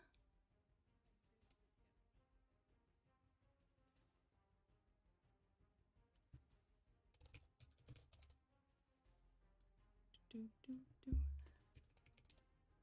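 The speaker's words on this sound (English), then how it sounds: "My little keyboard ASMR for a moment," Light typing on a computer keyboard: scattered soft key clicks that pick up into a quicker, louder burst of taps toward the end, all close and quiet.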